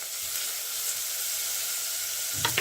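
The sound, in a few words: onions sautéing in oil with mustard, fennel, fenugreek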